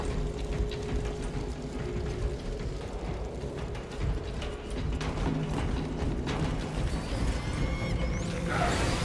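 Weapon being reloaded in Warhammer 40k Space Marine: mechanical ratcheting clicks and clacks of a magazine swap, heard close over a continuous game background.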